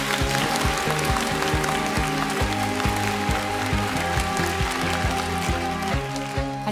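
A studio audience at a lecture event claps steadily in a dense, continuous wash of applause, with rhythmic music and drum beats playing underneath throughout.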